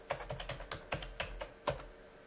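Quick bursts of computer keyboard typing, close and fairly quiet, with about nine distinct key clicks in an uneven rhythm as commands are entered at a PC.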